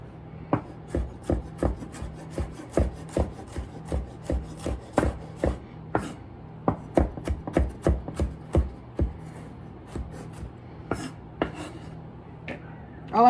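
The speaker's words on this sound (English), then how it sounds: "Chop down. Just do what I'm doing there." A knife chops fresh pico de gallo ingredients on a cutting board in rapid, irregular bursts of sharp close taps, pausing briefly between runs, with no talk.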